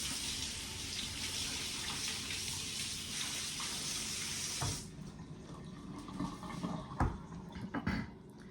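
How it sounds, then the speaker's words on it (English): A kitchen tap runs loudly as a utensil is rinsed under it during hot sauce preparation; the steady gush of water cuts off partway through, leaving quieter clinks and handling sounds. "And I'm still gonna rinse it off."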